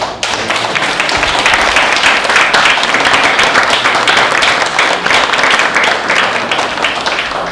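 Sustained audience applause at a political town hall meeting in New Minas, Nova Scotia, a loud, dense clapping crowd that holds steady from start to finish.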